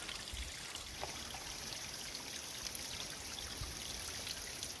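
A small waterfall heard from a distance outdoors, a faint, steady hiss of falling and trickling water with no voices over it.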